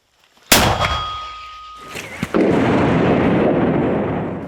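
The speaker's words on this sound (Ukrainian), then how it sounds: "Постріл!" A heavy 120 mm mortar round fires with a sharp metallic bang and ringing tone, then a second deep blast follows, trailing into a long, loud rumbling echo.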